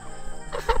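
Geese honk close by in a short burst, a few harsh calls rising toward the end with no talking.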